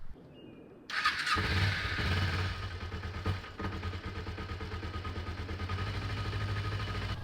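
A motorcycle engine cranks and catches, then settles into a steady, throbbing idle nearby.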